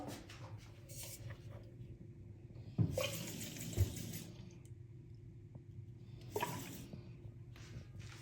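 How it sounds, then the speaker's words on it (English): Water poured into an automatic foaming soap dispenser, a close trickle and splash filling the reservoir with a few sharp clicks and bumps along the way, in a quiet indoor space. "So now I'll put in some water."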